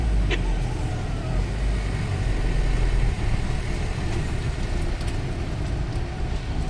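A car engine idles and creeps in reverse while boarding a ferry, a steady low rumble up close with faint background noise and no talking.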